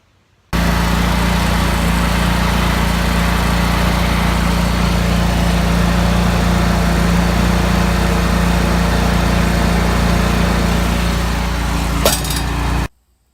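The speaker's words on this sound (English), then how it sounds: "here's a shot of the idler Pulley bearings as they were burning up as I was mowing" A Scag Turf Tiger zero-turn mower runs at steady high engine speed while its idler pulley bearings burn up during mowing, a loud unbroken droning hum with a faint metallic clink near the end before it cuts off.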